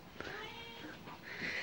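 A cat meows in a kitchen, a drawn-out plaintive call followed by a second higher meow, fairly near and quiet.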